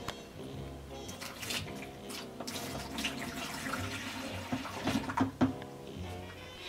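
Two cups of water pour and splash into an ice cream maker bucket, a quiet gurgling stream with a few louder splashes toward the end.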